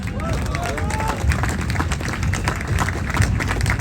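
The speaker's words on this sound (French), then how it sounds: "Donc j'aimerais ici qu'on les applaudisse" Applause from the audience at a public political meeting about pension reform: a dense spread of clapping hands under crowd murmur, steady and moderately loud for a few seconds.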